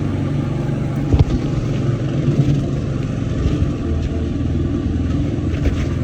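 A Hecht 2650 dumper engine runs steadily while the machine drives along, a loud continuous low rumble with slight fluctuations and occasional knocks.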